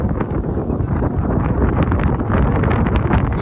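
Strong wind buffets the microphone in a steady, close rumbling roar with no voices.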